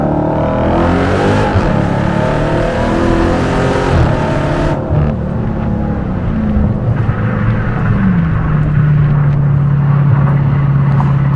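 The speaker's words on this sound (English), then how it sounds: "Now let's downshift a few times." A 717 hp Dodge Challenger Hellcat Jailbreak's V8 drops through several downshifts, loud and close, each gear change stepping the engine's roar up, before the exhaust settles into a steady, deep drone.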